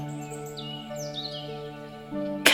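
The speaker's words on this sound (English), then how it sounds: "And you can hear the birds singing to each other." Birds chirp and twitter softly in short, scattered calls, faint and somewhat distant, over a calm sustained musical drone.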